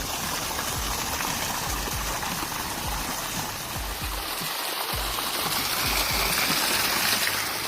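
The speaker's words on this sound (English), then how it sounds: "Additional pressure pumps water through the hollow trunk of the tree and leads it out through the hole." Water gushing steadily out of a hollow tree trunk in Montenegro after heavy rain, a constant rushing, splashing flow that stays loud and even throughout with no pauses.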